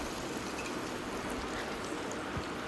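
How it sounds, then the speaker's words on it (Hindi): Onions fry in a pan for a Sindhi-style makhana and potato sabji, giving off a steady, dense sizzle close by, like light rain, with no voices. "प्याज को हमको गोल्डन ब्राउन होने तक भूनना है।"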